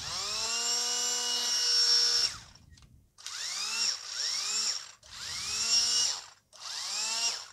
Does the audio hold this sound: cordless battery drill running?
yes